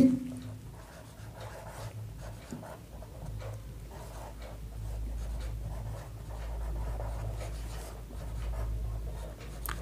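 A pen scratches across paper while a geometry proof is written out, with quiet irregular strokes and small taps, close and faint over a low steady background hum.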